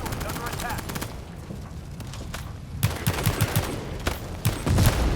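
Gunfire in the video game World War 3: quieter sporadic shots, then a run of close, punchy rapid bursts from about the three-second mark, with players speaking over the action.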